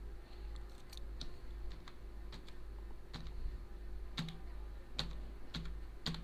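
Fingers tap on a computer keyboard in irregular bursts of quiet clicks, close to the mic over a steady low hum.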